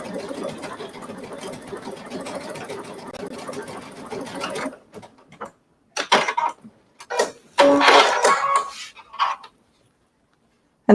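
A domestic sewing machine with a twin needle stitches fabric in a long, steady, close whirring run, then stops and starts in a few short bursts separated by silence.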